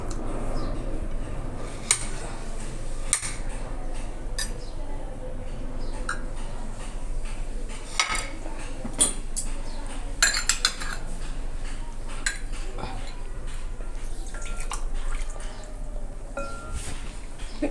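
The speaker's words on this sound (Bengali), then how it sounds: "আমি এইভাবে দুটো বাটিতে আইসক্রিমটা স্লাইস করে তোমাদেরকে" Metal utensils clink and scrape against bowls while kulfi ice cream is sliced into two serving bowls, with intermittent sharp taps over a soft kitchen background.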